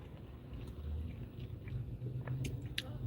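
Someone chews a fried egg on dry toast close to the mic, with soft wet smacking and small bites over a low rumbling background.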